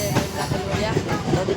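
A crowded passenger train rumbles along with a steady, loud rolling roar and rattle of the carriages, close by and continuous.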